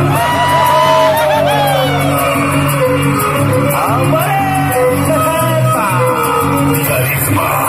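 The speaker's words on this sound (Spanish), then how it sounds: "Aplausos del público entero" A whole audience at a show in San Pablo el Grande, Hidalgo, breaking into loud cheering, whoops and shouts, with a constant roar of crowd noise and music-like tones underneath.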